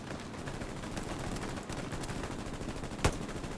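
Gunfire in the World War II shooter Hell Let Loose at Sainte-Mère-Église: faint, distant rattling of scattered rifle and machine-gun shots over a constant battle din, with one sharper, nearer crack toward the end.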